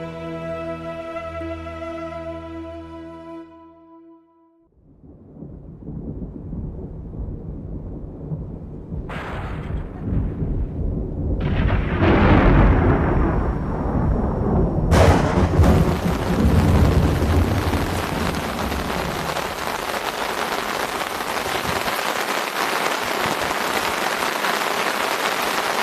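Heavy monsoon-style thunderstorm over flooded grassland: after a faint tonal opening, loud dense rain sets in with rolling, booming thunder swelling in the middle, then a steady roaring downpour.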